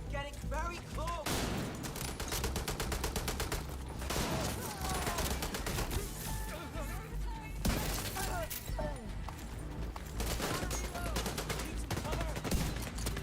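Near-continuous gunfire in The Division 2 shooter game: rapid volleys and sharp single cracks at moderate loudness, with a person talking throughout.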